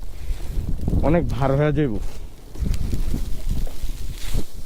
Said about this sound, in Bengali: হে কি বাতাস!